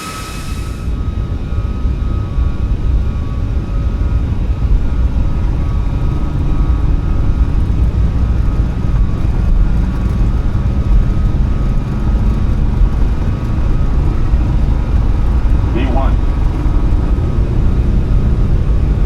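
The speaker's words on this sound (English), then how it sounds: "let's listen here as we spool up and get the takeoff roll going" Jet engines of an iFly 737 MAX 8 in a flight simulator spool up for the takeoff roll, a loud, steady roar with a faint whine that stays constant throughout, no talking.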